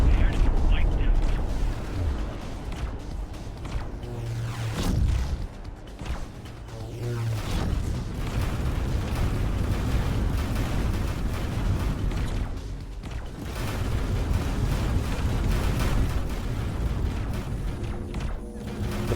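Pulse turrets fire at a Xenon ship in the space game X4 Foundations. Dense, continuous booming and rumbling space-combat noise carries on throughout, with repeated heavy thuds layered over a steady roar.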